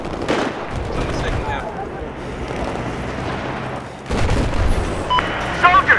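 Battlefield 4 gunfire on the Gulf of Oman map: heavy booming shots and bursts, with a loud blast near the end, over a constant rumbling battlefield din.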